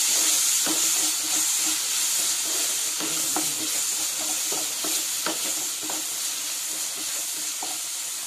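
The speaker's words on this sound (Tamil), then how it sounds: "கொஞ்சம் வெங்காயம் வதக்கிருச்சு, நம்ம தக்காளி போட்டுக்கலாம். தக்காளி நல்லா வதங்கட்டும்." Onions and tomatoes sauté in a pan for a fish curry, giving a steady, close hiss broken by repeated scraping and stirring taps of a spoon, with no voices.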